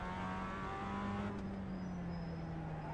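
A race car engine on Oran Park in iRacing hums steadily at a fairly low level, its pitch holding nearly constant with a slight shift midway and no voices.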